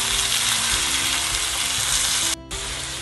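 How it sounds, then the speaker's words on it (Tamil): Onion, ginger, peeled garlic, cumin, salt and turmeric sizzle loudly in hot oil for a chicken curry, a steady dense frying hiss with a brief break near the end as the pan is stirred. "இந்த வெங்காயம், இஞ்சி, உள்ளி உரித்தது, மற்றது கொஞ்சம் இறைச்சி சீரகம், உப்பு, மஞ்சத்தூள் எல்லாம் போட்டு இந்த எண்ணெயில் நான் நல்லா வதங்க விட போகிறேன்"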